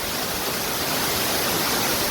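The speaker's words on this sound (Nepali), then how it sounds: "परदेखि माथि देखेको झरना यही हो। माथिबाट खसेको छ।" A Kerala waterfall roars as a steady, dense rush of falling water, loud and close, with no pauses or other sounds.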